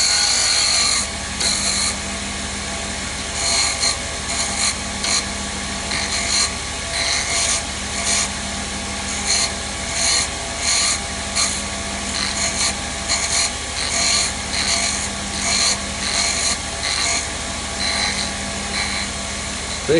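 Wood turning on a lathe as a chess rook is shaped, with a steady motor whine under repeated scraping bursts as the tool cuts into the spinning wood, close up and without speech.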